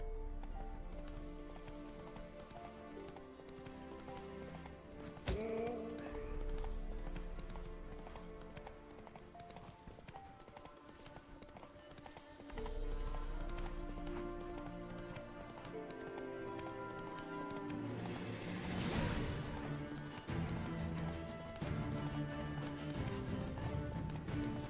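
A horse's hooves clip-clop at a gallop in the video game The Witcher 3, a quick steady rhythm over background game music that runs throughout, with a brief whinny-like burst partway through.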